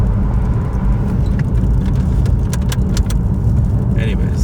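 A police car drives close behind, its engine and road noise forming a steady loud rumble with faint jingling on top and no speech.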